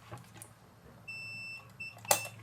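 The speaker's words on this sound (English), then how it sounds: "Put it on the beep mode." A short, thin electronic beep from a multimeter in continuity mode, held steady for about half a second and then repeated briefly, in a quiet room, followed by a faint click.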